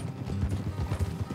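Horse hooves clip-clop at a steady trot on a dirt road in Red Dead Redemption 2, the rhythmic clopping close and clear, with a faint whinny and no talk over it.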